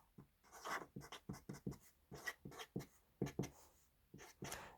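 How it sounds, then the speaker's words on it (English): Pen or pencil scratching across paper as a calculation is written out by hand, a run of short, close strokes in quick irregular rhythm with brief pauses between them, no voices. "So I'm simply gonna write it."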